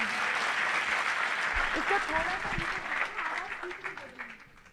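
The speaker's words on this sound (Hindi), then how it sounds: "एक बार मुझे ताली बजा करके आदेशित करें" Audience clapping at a Hindi kavi sammelan poetry recital, a dense, steady wash of applause that carries throughout and thins slightly near the end, with a voice speaking over it.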